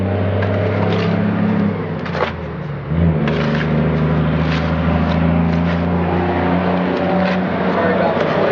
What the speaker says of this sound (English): there's a lot of commercial vehicles going by here, as well as a lot of other traffic.